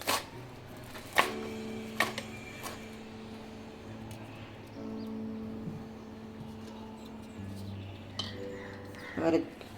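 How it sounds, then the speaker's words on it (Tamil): A knife taps sharply on a cutting board a few times while chopping coriander leaves, spaced irregularly, over faint background hum. "இப்போ இந்த கொத்தமல்லி கீரையை சின்னதாக கட் பண்ணி எடுத்துக்குவோம்."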